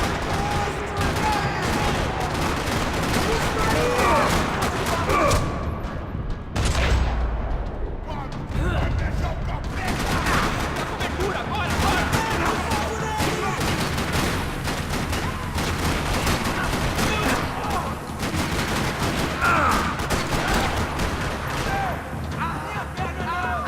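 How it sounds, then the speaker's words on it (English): Sustained gunfire rattles through a parking lot in the Max Payne video game, dense bursts of shots and booms crowding the scene, with a brief lull before firing resumes; voices are heard under the shooting. "Another parking lot rattling with gunfire."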